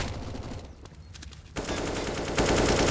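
Counter-Strike AWP sniper rifle fire on the Inferno map during a competitive match, a dense, loud stretch of gunfire that intensifies sharply partway through and swells again near the end, with no talk over it.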